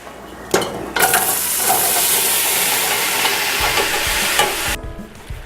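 Apples, onions and carrots sizzle in melted butter in a soup pot, a loud steady frying hiss that bursts in as the vegetables drop in and holds without talk.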